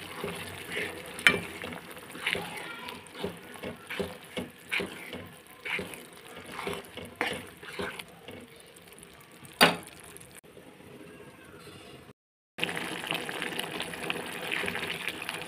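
Sago halwa with jaggery, raisins and dry coconut pieces being stirred in a pan over a medium flame, a steady soft sizzle with scraping and clicking stir strokes, near and unbroken except for a brief drop near the end.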